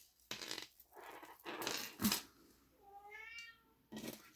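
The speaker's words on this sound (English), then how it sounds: "That's my kitty cat Bronze." A cat meows a few times nearby, one drawn-out rising and falling cry standing out between softer shuffling noises.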